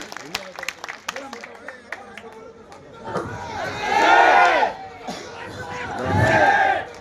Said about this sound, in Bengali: এই মুহূর্তে আমরা লায়ন ফরিদ আহমেদকে করতালির মাধ্যমে অভিনন্দন জানাই।